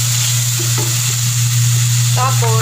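Pork and alamang shrimp paste sauté in a pan with a loud, steady sizzle and frying hiss, stirred close up, as a voice briefly speaks over it.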